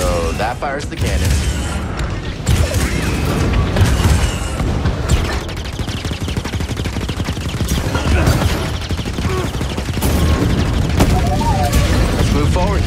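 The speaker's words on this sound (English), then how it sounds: "So that fires the cannon." Cannon fire in the Star Wars Jedi: Fallen Order video game, a series of loud booming blasts and mechanical clanks among busy game effects, with a voice speaking in places.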